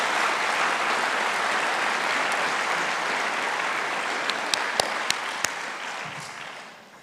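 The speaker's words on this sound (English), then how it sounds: "Let's give them all a big round of thanks." Sustained applause from a commencement audience at an MBA graduation ceremony, dense steady clapping that holds for several seconds with a few sharper claps near the end before fading out.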